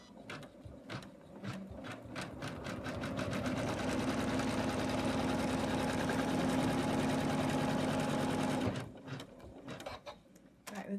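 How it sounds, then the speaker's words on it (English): An in-the-hoop embroidery machine stitches fabric for a snowman stocking with a fast, even mechanical chatter. The chatter builds, runs steadily close by, then stops abruptly, leaving quieter clicks. "it's going to do the next stitching"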